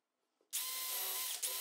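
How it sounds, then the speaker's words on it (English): A power drill starts abruptly and whines at a steady high pitch as it bores bolt and barrel-nut holes into wood for a router table, with a brief dip near the end. "Now I'm going to drill the required holes for the bolts and barrel nuts."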